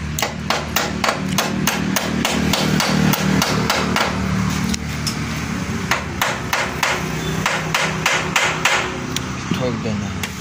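A hammer strikes repeatedly, driving a handle lock into place on a Bajaj Avenger motorcycle; the sharp blows come close and loud in quick irregular bursts over a steady background hum.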